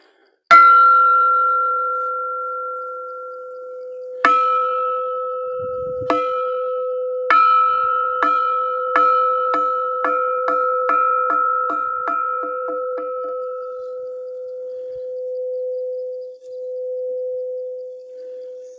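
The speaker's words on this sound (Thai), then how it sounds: "นี่เดี๋ยวเราจะตีระฆังนะครับ" Temple bell at a mountaintop pagoda struck over a dozen times, starting with slow, widely spaced strikes that quicken into a rapid series, each clear metallic tone ringing on in a long, sustained hum.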